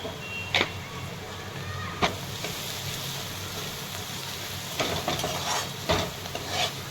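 Crumbled chapati pieces with onion, peanuts, turmeric and red chilli powder are stirred in a hot pan, a steady sizzle with periodic scraping strokes of the spatula, close and clear without speech.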